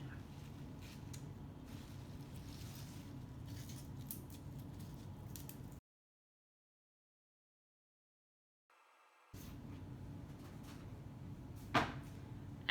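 Broccoli rabe leaves being stripped and cut by hand, soft snips and leafy rustles close by in a quiet kitchen, with a silent gap midway.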